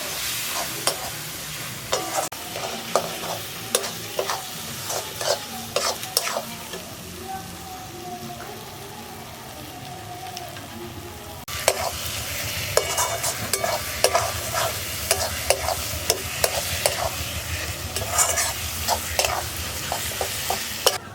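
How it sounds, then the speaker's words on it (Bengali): A spice masala of red chilli, cumin, coriander and Kashmiri chilli powders fries with a splash of water in a pan, a continuous close sizzle broken by repeated scraping and stirring strokes, growing louder partway through. "দিচ্ছি অল্প জল মশলাটা কষানোর জন্য।"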